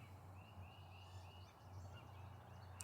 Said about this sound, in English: I hope that you can hear the bird sounds around me.